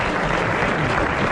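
Audience applause in a studio, a dense wash of clapping from a crowd, steady and fairly loud throughout the brief moment.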